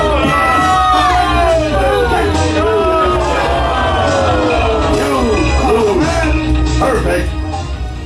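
A comedy show audience at the Edinburgh Festival yells, whoops and cheers loudly, with excited overlapping shouting and some shrieking voices sustained throughout.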